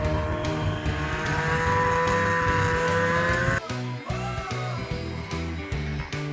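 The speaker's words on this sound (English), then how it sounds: "Here's Corbin racing his grandpa Fred" Snowmobiles race across an untouched snowy meadow, one machine 100 cc larger than the other, their engines droning loudly and steadily with a rising pitch, then shifting in tone as they pass and pull away.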